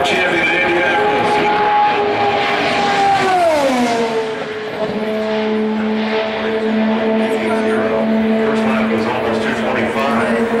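Buddy Lazier's Indy car screams past on a qualifying run at Indianapolis, its engine tone sweeping down as it passes and then holding a steady high whine, with an announcer's commentary running over the top.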